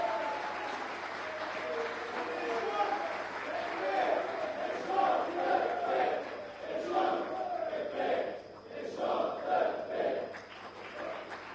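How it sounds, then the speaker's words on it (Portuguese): An audience at a political youth party anniversary event applauds and cheers, a moderately distant crowd roar with clapping that swells and ebbs over about eleven seconds. "É o nosso Euroguima, para quem eu peço uma grande salva de palmas"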